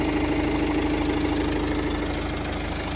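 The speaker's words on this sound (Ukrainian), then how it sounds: "Ось так працює двигун." A 2020 Master L4H3 engine idling with the bonnet open, a steady close-up rumble with a faint regular knock, alone and constant throughout.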